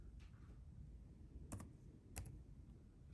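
A few faint keystrokes on an HP OMEN 15 gaming laptop keyboard, two short double clicks close by in a quiet room with a low background hum.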